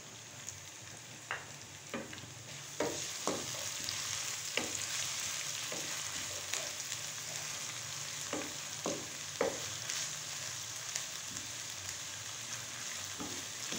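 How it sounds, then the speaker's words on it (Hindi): Chopped onion, ginger and garlic sizzling in a pan, a steady crackling fry with scattered sharp pops and occasional stirring scrapes, close and continuous without speech. "अब हम इसमें डालेंगे अदरक लहसुन 2 टेबलस्पून चॉप की हुई।"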